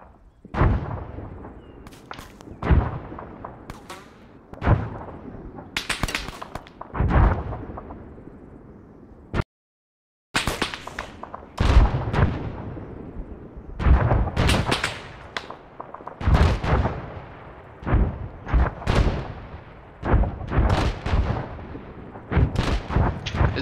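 Artillery fire booms again and again in a military battle near Kavala, the heavy thuds and blasts arriving at irregular intervals and growing denser toward the end, some distant and some sharper and closer.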